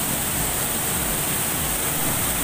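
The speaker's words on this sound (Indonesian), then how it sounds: "di sebelah kiri air terjun ini ya guys" A waterfall at a hot spring roars in a loud, unbroken wash of rushing water, steady and close with no other sounds standing out.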